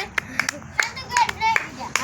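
A small group bursts into applause with a few quick, uneven rounds of hand claps close by, mixed in with excited chatter and voices.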